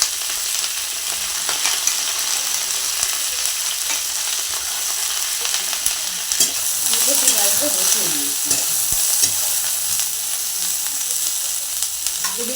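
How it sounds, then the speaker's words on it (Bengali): Cauliflower frying in a pan gives a loud, steady, close-up sizzle throughout, with occasional scraping stirs and bubbling crackle rising midway. "আমি আলুটা ফুল সরি ফুলকপি ভাজতে বসিয়ে দিয়েছি"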